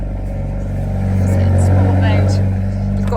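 A 2022 Hyundai i30N's engine turns over and settles into a steady low rumble close by, swelling slightly midway, while a person talks over it.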